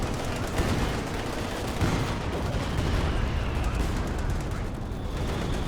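Sustained MG42 machine gun fire rattles continuously in a Company of Heroes match, dense overlapping bursts mixed with artillery and battle noise, loud and unbroken throughout.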